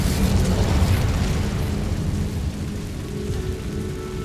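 Fire spell Incendio cast in the Hogwarts Legacy video game, a loud roaring, rumbling burst of flame that swells at first and then holds steady as a dense continuous whoosh.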